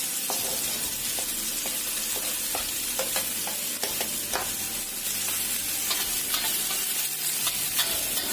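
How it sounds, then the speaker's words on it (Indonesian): Onions, garlic and shallots sauté in hot oil over medium heat, giving a dense, constant hiss, with scattered spatula scrapes and taps against the pan close by. No one speaks. "Setelah minyaknya panas, kita masukkan bawang bombaynya, bawang putih, bawang merah"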